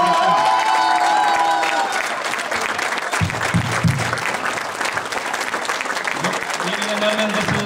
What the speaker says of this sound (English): So a round of applause for Washington for the club.